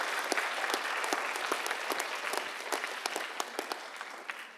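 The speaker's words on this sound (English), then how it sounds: "give him a round of applause" An audience at a school writers expo claps loudly and steadily for several seconds for a teacher on stage, the dense applause tapering off slightly toward the end.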